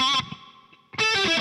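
An electric guitar through a TC Electronic Stereo Chorus+ pedal with reverb plays sustained, shimmering chords that ring out, fade into a washy tail, then return with a bright, effect-laden strum.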